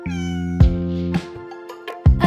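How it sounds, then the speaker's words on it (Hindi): A cat meows in a children's Hindi nursery rhyme, several clear, close, harmonic meows in quick succession with no speech over them. "घूम घूम के करती म्याऊं म्याऊं म्याऊं"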